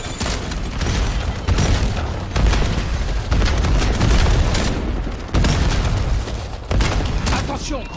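Call of Duty Black Ops 7 multiplayer combat, a rapid run of heavy booms and bursts of gunfire in quick succession, dense and loud with brief gaps between volleys.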